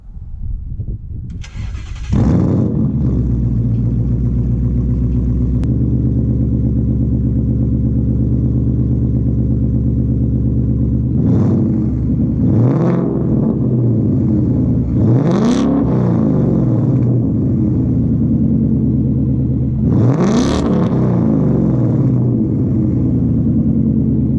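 A Ford Mustang fitted with a new exhaust starts up, settles into a deep, loud idle up close, then is revved three times, each rise swelling and falling back, with no talk.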